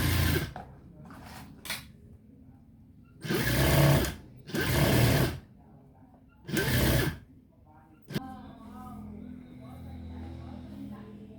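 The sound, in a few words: sewing machine stitching straight seam on children's garment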